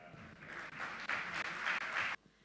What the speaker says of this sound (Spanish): bienvenidos con el aplauso del auditorio